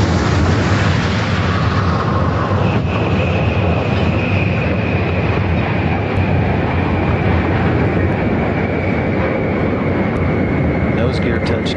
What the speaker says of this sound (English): Discovery is rolling out at sunset on runway 15 at the Kennedy Space Center